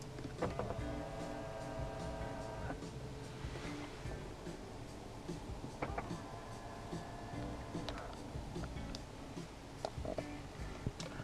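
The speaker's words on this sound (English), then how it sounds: "as shown earlier, power folding side mirrors" Power folding side mirrors on a 2018 BMW 530e iPerformance Sport Line whir as they fold, a motor hum lasting about two seconds, followed later by softer clicks and another brief whir.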